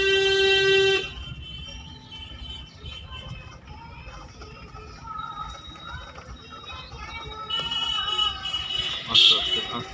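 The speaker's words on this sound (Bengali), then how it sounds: "হর্ন মারো।" A car horn during a driving lesson on the road in Ichapur sounds a sustained honk at the start, then a short beep near the end, over a low engine and traffic murmur.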